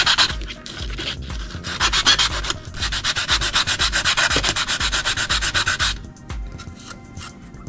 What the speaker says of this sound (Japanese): ヤスリで、ガシガシガシガシガシガシガシ。